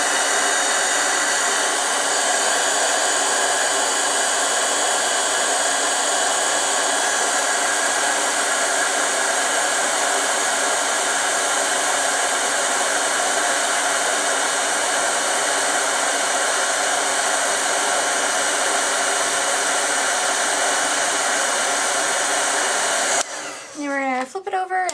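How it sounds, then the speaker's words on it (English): Embossing heat tool blowing hot air while making a handmade birthday card: a loud, steady, hair-dryer-like whoosh runs close and unbroken for the whole stretch, with a brief disturbance at the very end. "Cutting pad and our heat tool, we're just going to heat it up."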